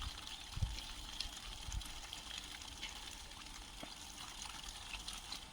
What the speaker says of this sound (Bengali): মোটরে জল উঠেছে।